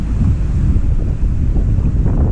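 Strong gusting wind pounds the microphone beside flooded ground near a high school in a heavy rainstorm. A loud, unbroken low roar with rough, fluttering buffeting fills the whole stretch, and no one speaks.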